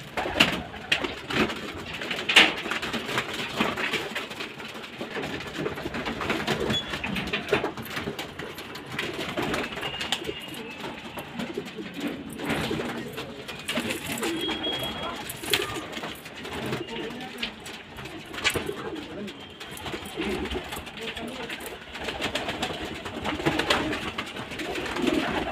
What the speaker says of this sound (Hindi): आप मैदुमा कबूतर देख रहे हैं और ये देखिए उसकी मादा मैदुमी बैठी हुई है।